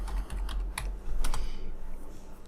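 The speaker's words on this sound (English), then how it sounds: "we can type in training" Computer keys are tapped in a quick irregular run of clicks, about a dozen soft strikes spread over a couple of seconds while a file name is entered, close and fairly quiet over a low hum.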